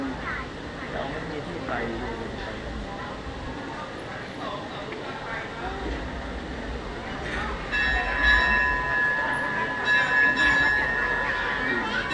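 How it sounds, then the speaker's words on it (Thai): A Thai train rumbles into a crowded station, growing louder, with squealing wheels and a high screech near the end as it slows; people talk throughout. "รถไฟกำลังจะเข้า"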